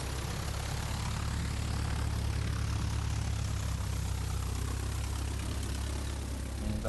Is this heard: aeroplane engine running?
yes